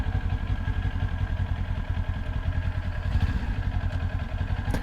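A Kawasaki Ninja 400 motorcycle engine runs steadily while riding on an early-season trip, a dense continuous low drone with wind rush throughout, loud and close with no voices.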